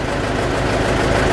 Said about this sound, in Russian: Ну, трактор работает ровно.